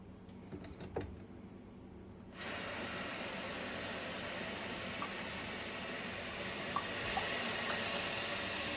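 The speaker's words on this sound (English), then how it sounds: "So let's get some warm water in there." Warm water pours into the tank of a VAX SpotWash carpet and upholstery cleaner, starting with a few faint knocks and then settling into a steady, fairly quiet rush of running water that continues to the end.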